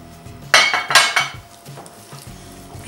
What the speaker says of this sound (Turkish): Şimdi salçaları içerisine boşaltacağım ve güzelce karıştıracağım.